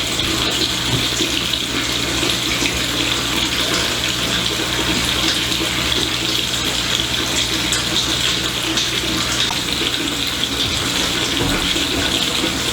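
A KegLand Bucket Blaster keg washer pumps water in a steady, loud, unbroken spray and gush, with a constant hum underneath and no voices.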